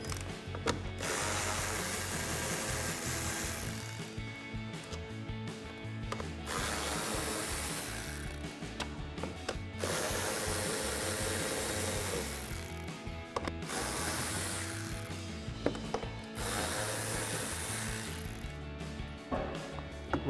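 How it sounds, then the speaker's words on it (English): A 7mm socket on a ratchet clicks rapidly and continuously while removing bolts from a plastic cover on a Jeep Gladiator JT, loud and close, broken by several short pauses as it moves from bolt to bolt. "we're gonna remove these bolts."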